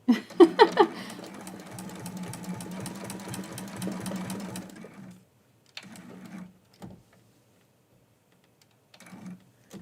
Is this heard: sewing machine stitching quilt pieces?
yes